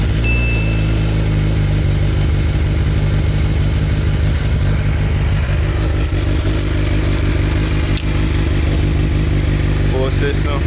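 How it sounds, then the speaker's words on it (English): A Suzuki GSX-R 1000 sportbike on its stock exhaust after a cold start, idling steadily with a loud, close, continuous engine drone and light mechanical clatter, a voice speaking briefly over it. "I'll just let y'all hear the sound of the bike one last time before we get it switched."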